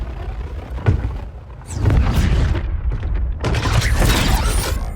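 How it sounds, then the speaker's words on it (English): Arm cannon in the Injustice 2 game firing heavy mechanical booms and whirring blasts, with a sharp hit near the start and then a dense barrage of crackling impacts. "Sweet arm cannon!"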